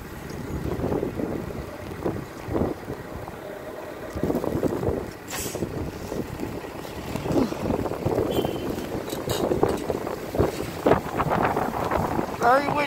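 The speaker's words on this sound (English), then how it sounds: "Very windy." Strong, cold winter gusts roar and buffet the microphone outdoors in low, uneven surges, with occasional faint voices underneath.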